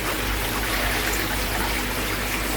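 A spray of water pours from a shower attachment into a koi pond while fish feed on pellets, giving a steady, close hiss and splash that runs without a break and without any voices.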